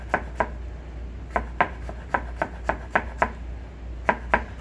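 A knife chopping on a cutting board in quick, evenly spaced, crisp taps, with short pauses between bursts, close and clear with no talking.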